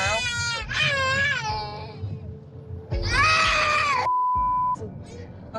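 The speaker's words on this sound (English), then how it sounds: "he's screaming because he's tired." A tired young child screaming and wailing inside a car, with long loud cries that rise and fall, broken by brief pauses and a steady tone, close and intense with faint engine rumble beneath.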